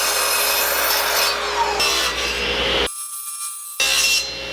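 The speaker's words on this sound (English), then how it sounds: "Now I do have to avoid these large knots, so this end will have to be cut off." A pine board is sawn with a loud, harsh continuous rasp that cuts out abruptly for about a second, then resumes, recorded close and with no talking.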